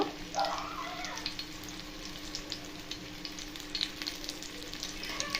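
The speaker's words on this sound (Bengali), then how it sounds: "গ্যাসের ফ্লেমকে পুরো সিম করে নিয়ে এভাবে চেপে চেপে ভেজে নেব।" Bitter gourd fries on a flat griddle over a low flame while being pressed down, giving a steady, close sizzle with light crackles and occasional stirring scrapes throughout, no voices.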